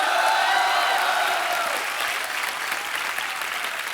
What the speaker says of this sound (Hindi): हौसला अफजाई के लिए ठोको ठोको। तालियां।